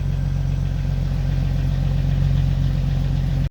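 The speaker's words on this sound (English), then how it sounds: "Recently put in the MagnaFlow glass pack exhaust. Go ahead and fire it up" A Jeep Wrangler TJ fitted with a MagnaFlow glass pack exhaust, idling with a deep, steady, pulsing low rumble close to the microphone, cutting off abruptly at the end.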